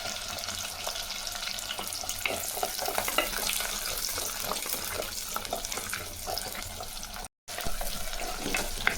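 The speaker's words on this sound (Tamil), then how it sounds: "வெங்காயம் நல்லா வதங்கிடுச்சுங்க." Small shallots fry with dried and green chilies in hot oil, a constant close crackling sizzle with occasional stirring scrapes and a brief silent break.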